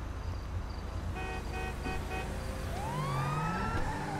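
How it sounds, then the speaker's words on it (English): A police siren in GTA 5 wails up and down in the middle distance over a steady low engine rumble, with a few short horn-like tones beforehand and the siren's sweeps growing louder toward the end. "let's turn off that siren"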